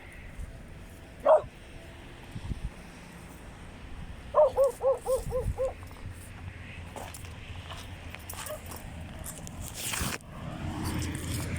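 A large Japanese-breed dog barks once, then lets out a quick run of about five barks a few seconds later, fairly close, over a low background rumble and some later noise.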